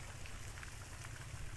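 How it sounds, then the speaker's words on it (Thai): Steady rain pours down outdoors near an elderly woman's spot, a dense, even hiss of drops with no talk, constant and moderately close throughout. "คุณยายต้องขยับนะเนี่ยเพราะว่าฝนเข้ามานิดหน่อย"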